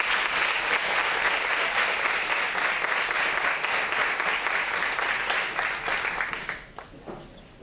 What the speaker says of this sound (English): please give me a round of applause to Miss Alfreeda Goff